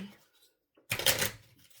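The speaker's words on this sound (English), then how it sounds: "I'm going to shuffle 3 times." Tarot cards are shuffled in one quick riffle, a brief dense rustle that follows a moment of near silence and faint room noise.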